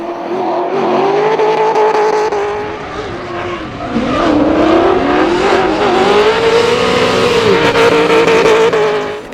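Nissan S14 drift cars battling at Hampton Downs in a D1NZ drifting round, loud engines revving and bouncing off the limiter with tyre screech, the sound swelling and dipping as the cars pass close.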